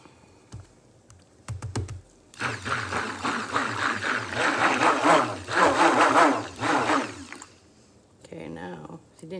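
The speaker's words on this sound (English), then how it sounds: "when I hit this with the blender" A stick blender whirs through cold process soap batter made with banana pumpkin puree and an essential oil spice blend, running in loud sustained bursts for several seconds with a pause between, while a person talks over it.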